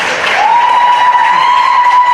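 A packed room at a sickle cell disease policy advocacy summit applauds loudly and steadily, with a long, clear, high whistle ringing out over the clapping.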